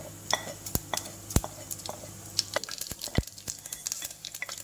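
Mustard seeds spit and pop in hot oil in a pressure cooker: scattered sharp crackles over a soft sizzle, fairly quiet and close, with occasional faint utensil clinks.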